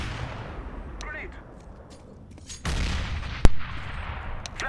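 A grenade detonates in Counter-Strike: Global Offensive with a sharp, sudden blast after a broader burst of gunfire-like noise, while players talk over the game sound.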